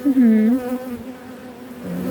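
Loud, close droning buzz of honeybees at an open hive, wavering in pitch, swelling at first then settling into a softer hum.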